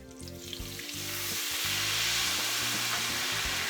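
Seven tablespoons of sweet butter sizzle in a pan while making vodka sauce, a loud continuous frying crackle that builds and holds, with occasional stirring knocks and no speech.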